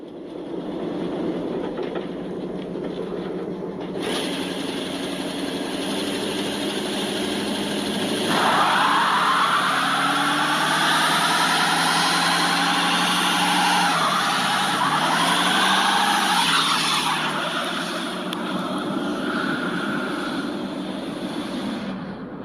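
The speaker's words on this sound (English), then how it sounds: "I've been promising a burnout in this thing" A cheap classic Mercedes car revving hard during a burnout, the engine note sweeping up and down in long rising and falling wails over a loud, continuous roar of tire and exhaust noise, with no talking.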